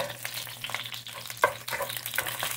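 Chopped garlic sizzles and crackles in a frying pan while it is stirred, a steady close hiss broken by small pops and the scrape of stirring.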